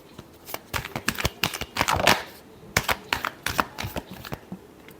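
Tarot cards are shuffled by hand close up, a quick irregular run of crisp flicks and riffling snaps with a brief dense burst in the middle, no voices.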